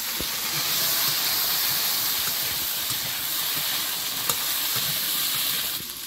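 Panch phoron spices and cauliflower stems sizzling in hot fish-frying oil in a home kitchen, a steady, loud crackling fry with a bright hiss running throughout and small pops, heard alone without talk.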